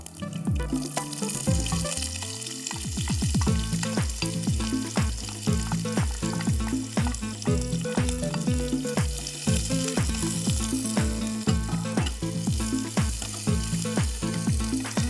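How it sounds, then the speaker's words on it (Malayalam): Onion, ginger and garlic frying in a pan for Kuttanad duck curry, with continuous crackling sizzle and repeated rhythmic scraping stirs close by, over steady background music. "ഉള്ളി ഇഞ്ചി വെളുത്തുള്ളി എല്ലാം കൂടെ ഇട്ട് നല്ലതായിട്ടൊന്ന് മൂക്കണം"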